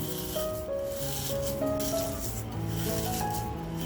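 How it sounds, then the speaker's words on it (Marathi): Crispy fried onions for a spicy homemade mutton korma are tossed and mixed by hand, giving a steady close dry rustling and crackling that runs throughout, with tonal music underneath. "कांदा बघा आपला तुम्हाला आवाज येत असेल किती कुडकुडीत झालेला आहे."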